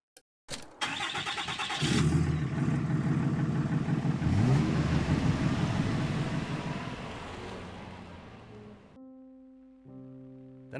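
In the video game My Friendly Neighborhood, a truck engine cranks and starts after a few clicks, then rumbles and revs loudly for several seconds. It settles, giving way to steady tonal hums at the end, with no voices.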